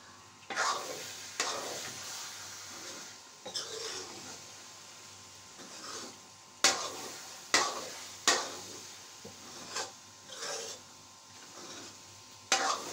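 Grated carrot halwa is stirred and roasted in a pan, giving repeated scraping strokes of a spoon against the metal over a soft sizzle, irregular and close, with no voices.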